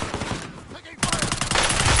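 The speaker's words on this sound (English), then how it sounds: "Taking fire!" Gunfire in Call of Duty: Warzone on Rebirth Island, distant scattered shots at first, then a dense, loud burst of nearby automatic fire, with game sounds mixed underneath.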